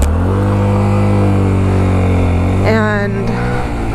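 A Yamaha FZ-07 motorcycle engine idling loudly up close, then briefly revving with a rising whine near the end before settling.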